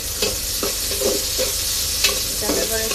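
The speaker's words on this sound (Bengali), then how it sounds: "এখন আমি চিংড়ি মাছগুলো দিয়ে দিব একটু" Prawns sizzle in a pan with browned onions, a close, loud crackling fry broken by repeated stirring scrapes in an uneven rhythm, with no talking.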